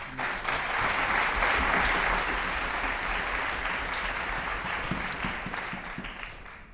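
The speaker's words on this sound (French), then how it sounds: "vous pouvez l'applaudir" Sustained audience applause fills a Christmas concert hall, a dense steady wash of clapping that holds loud for several seconds and then slowly thins.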